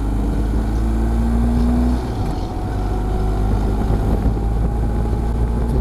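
Heavy wind buffeting a microphone while riding toward Lake Murray, a loud continuous low roar with engine-like rumble underneath, steady throughout and without talk.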